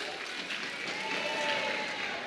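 A church congregation at a Christmas service applauds a youth and student group, a steady wash of crowd clapping that stays even throughout, heard from a distance with a faint murmur of voices under it.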